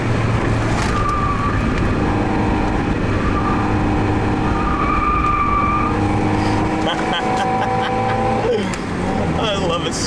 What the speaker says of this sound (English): These tires are squealing.